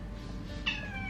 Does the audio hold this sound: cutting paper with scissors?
no